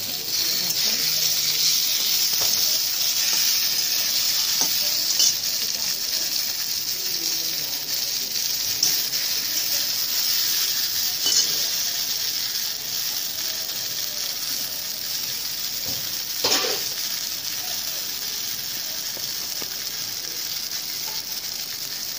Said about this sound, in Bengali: আমগুলো এতে নাড়তে হবে